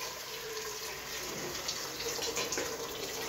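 Water pours steadily from a tap into a pot of rice being cooked with oil and salt, a continuous close splashing rush with no talk.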